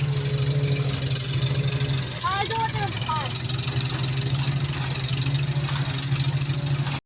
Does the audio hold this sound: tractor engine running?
yes